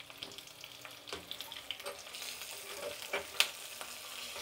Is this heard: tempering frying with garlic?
yes